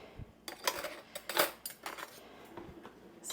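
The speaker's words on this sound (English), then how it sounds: "Spoon and a knife here." A spoon and a knife picked up in a kitchen while making peanut butter chocolate bars, a run of light metallic clinks and clatters, close and irregular with no talk.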